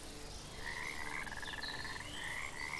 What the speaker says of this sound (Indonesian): Oh, ini kodok